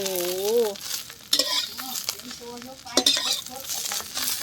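Sesbania flowers are stir-fried in pork fat in a pan over a charcoal stove, with a hissing sizzle and intermittent scraping strokes of the spatula while someone speaks briefly.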